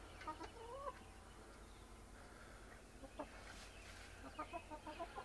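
Chickens being fed fish cluck and make short squawking calls close by, in scattered bursts over a quiet background, with no talking.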